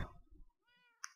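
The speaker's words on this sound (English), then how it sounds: "There's a random cat here." A single short in-game cat meow from a Minecraft game, heard alone and fairly clear after a brief rustle of game sounds.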